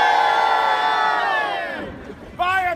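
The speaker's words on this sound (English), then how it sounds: "And the crowd would go wild and cheer." A tour group at the Tower of London lets out a loud, ragged cheer that tails off, followed by a brief second burst of shouting.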